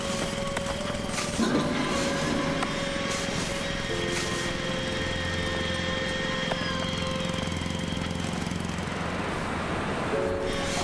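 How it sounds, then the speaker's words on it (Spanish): A rock drill boring into sandstone: a loud, continuous mechanical drilling roar with steady engine drone and sustained hammering texture, running throughout without pause. "el taladro hizo excelentes progresos sin necesidad de muchas voladuras"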